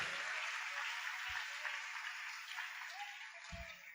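Faint, distant clapping from a church congregation at a worship service, a steady soft wash of hands that holds throughout without much rise or fall.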